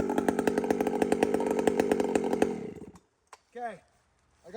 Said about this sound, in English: I've been playing with my grinder, and I got a mean cutting chain right now.